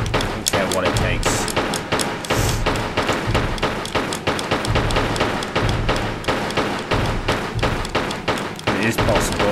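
Pistol fire in the Tomb Raider 3 video game: a steady run of sharp, loud shots in quick succession throughout, layered over busy game sound.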